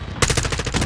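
Heavy, dense gunfire from the video game Modern Warfare 2 opens after a brief quieter moment and then hammers on loud and close as rapid, overlapping bursts, with no talking.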